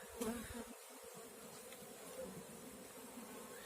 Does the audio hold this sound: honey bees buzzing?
yes